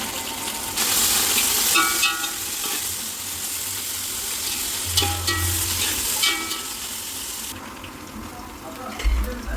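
Coriander and mint sizzle and crackle steadily in a hot oiled pan while cooking Ambur mutton biryani, a constant bright frying hiss with occasional stirring clatter in the foreground.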